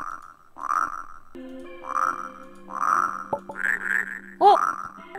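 A colour-changing toy toad gives a run of throaty, rasping croaks in uneven bursts, close and fairly loud, with brief tonal squeaks between them and no talking.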